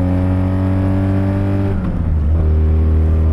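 A 1974 sport touring motorcycle engine accelerates hard past 5,500 RPM, a loud, close, steady harmonic drone that wavers midway as the revs climb and shift, with no talking.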